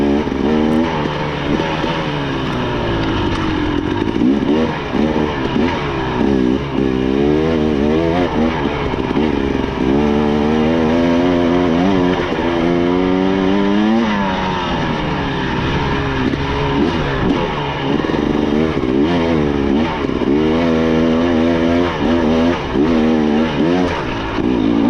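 A 350 dirt bike engine revs hard through a second-gear hill climb, loud and close, its pitch rising and falling as the throttle opens and eases over sustained running.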